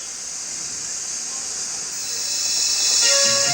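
Steam engine hiss from Thomas the Tank Engine, a steady broad rush of steam that swells louder toward the end, with a faint tonal whistle-like note emerging near the close.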